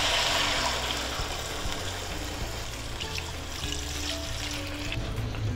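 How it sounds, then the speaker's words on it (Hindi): Water poured into a karahi pot holding cubed ingredients for a wild starling curry, a steady broadband splash and trickle running close and fairly loud throughout, with no talking. "और अब इसमें हमने पानी ऐड कर देना है तकरीबन 2 ग्लास जितना।"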